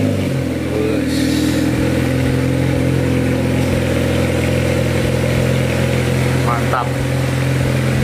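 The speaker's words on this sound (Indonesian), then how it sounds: "mobilnya kita keluarin dulu guys, sambil dengerin knalpotnya dikit-dikit ya." Honda Civic FD1 Type-R idling close by with a steady, low exhaust rumble, while a voice speaks briefly over it.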